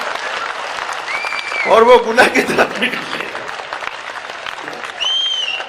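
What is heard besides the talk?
audience clapping at a Hindi poetry gathering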